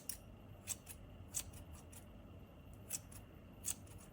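Scissors trimming the ends of yarn tassels, four or five crisp close snips spaced apart, faint and alone.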